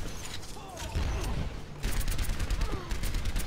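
Soldier: 76 fires in Overwatch on the Numbani map, with rapid bursts of rifle fire and mechanical clatter in two loud stretches and quieter game sounds between them.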